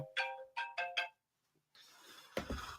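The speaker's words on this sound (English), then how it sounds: "sorry, my phone's ringing" A mobile phone rings during a live stream, sounding a repeating four-tone ringtone pattern at moderate volume. A short pause follows, then faint background noise and rustling.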